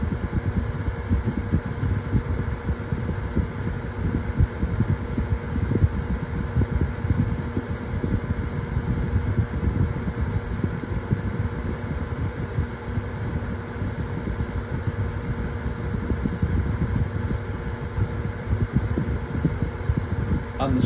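A Honeywell 7-inch black turbo desk fan from 2001 runs on its high setting, a steady close whooshing drone with a low motor hum that holds evenly throughout.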